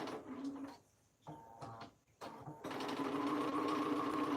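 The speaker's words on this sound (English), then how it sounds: "We're just going to sew that straight." Sewing machine stitches fabric for a dress in short bursts broken by pauses, then settles into a long steady close whir.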